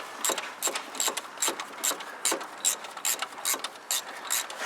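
Close, rapid clicking of a ratchet loosening a part on a Mercedes E320, repeated in an even rhythm of about a dozen sharp ticks.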